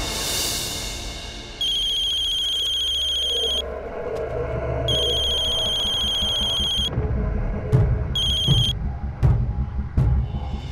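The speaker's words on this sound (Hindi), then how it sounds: "फोन बज रहा है ना, उठाइए ना।" A telephone rings in bursts of bright electronic trilling, loud and close, with pauses between rings over a low background rumble, no talking.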